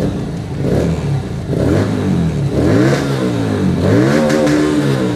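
Loud motorcycle engine with a twin-cylinder setup revs repeatedly at a crowded fair, the pitch rising and falling in several close, throaty pulls with no talking over it.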